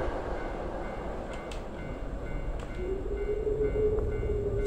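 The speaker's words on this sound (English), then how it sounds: "That train sounds so close." A rumbling train rolls past in the Tsugunohi horror game, a steady low roar of rail noise with a rising tonal whine near the end, sounding close and continuous without talk.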